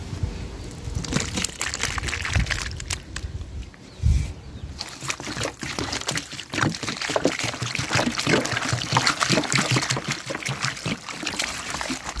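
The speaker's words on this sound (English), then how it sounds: "so I'll go ahead and give them a quick wash" Sliced raw crisps being washed by hand in a basin of water in an African village kitchen, with continuous splashing, sloshing and trickling water close up, no voices.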